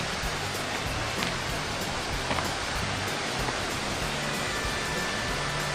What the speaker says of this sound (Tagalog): Yung waterfalls.